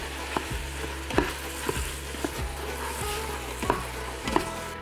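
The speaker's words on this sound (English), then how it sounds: "So we'll add the pork and we will add the ground beef to the Instant Pot." Ground pork and beef sizzle in an Instant Pot over already-sautéed onions, red peppers and garlic, with steady frying and a spoon scraping at regular intervals, close and moderately loud, with no voices.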